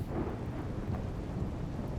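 Rain and thunder in the game Rimworld: a soft, continuous rain hiss with a low, rolling thunder rumble underneath, steady and fairly quiet throughout.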